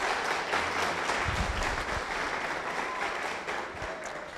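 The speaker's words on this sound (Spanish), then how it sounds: "Denle un aplauso a Jesucristo." A church congregation applauds during a Spanish-language service, a dense, steady wash of many hands clapping throughout, with a few low voice murmurs in the middle.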